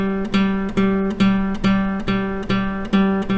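Fingerstyle guitar melody with percussive thumb ghost notes on beats 2 and 4, a clear, even picked line punctuated by regular sharp slaps, close and loud with no voice.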